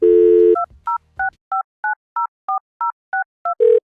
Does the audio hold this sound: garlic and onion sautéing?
no